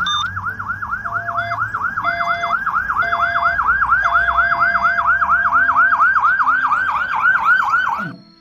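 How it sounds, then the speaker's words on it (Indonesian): A police car siren, likely from a toy vehicle, giving a fast repeating yelp of rapid rising-falling whoops, loud and close, building slightly before cutting off abruptly at the end. "Wow, ada mobil polisi teman-teman."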